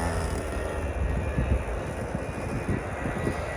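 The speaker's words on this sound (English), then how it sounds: "here comes the aeroplane. Oh, he's taking off." A fixed-wing aeroplane taking off near an off-road quad bike outing gives a steady, continuous engine roar with broad low rumble, fairly loud and unbroken throughout.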